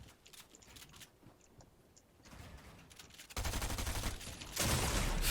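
Gunfire in a Fortnite solo Cash Cup fight, rapid bursts of shots that grow louder and denser toward the end, heard alone without talk.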